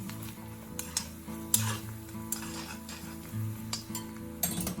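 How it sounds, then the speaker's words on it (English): A spoon stirs thick caramel mixed with dried fruits and nuts in a pan, giving soft, faint scraping and light clinks in an irregular rhythm over a low, quiet background. "Now you can stir it with a spoon."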